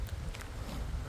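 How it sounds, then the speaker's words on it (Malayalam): Strong wind buffets the microphone outdoors in a planting field, a continuous loud rumbling roar with no other clear sounds. "നല്ല കാറ്റ്, നല്ല കാറ്റ്."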